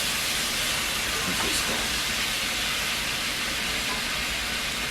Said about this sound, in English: That's what I want to hear, that sizzle. Cooking in its own grease.